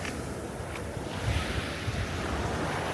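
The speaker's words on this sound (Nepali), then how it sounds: "छालले मेरो चाकसम्मै हान्दियो" Sea waves break and wash steadily on a beach, with a continuous rushing surf and wind noise on the microphone, close and fairly loud, with no voices.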